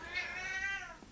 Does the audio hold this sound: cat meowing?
yes